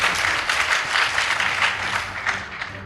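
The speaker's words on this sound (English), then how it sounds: "Please give them a round of applause." A school debate audience applauds the winning team, with sustained, fairly loud clapping that holds steady for the whole stretch and has no talking over it.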